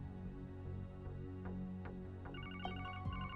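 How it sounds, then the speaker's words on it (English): A telephone rings in The Legend of Heroes: Trails to Azure, a repeating electronic ring that enters partway through over steady background game music, with no voices. "That phone's ringing off the hook, I bet."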